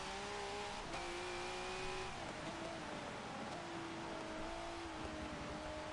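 A V8 Supercar in Forza 7 slides off Graham Hill Bend at Brands Hatch, its engine droning loud and steady with shifting pitch as the tyres scrub through the corner.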